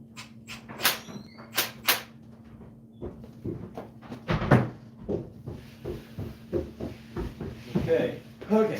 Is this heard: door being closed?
yes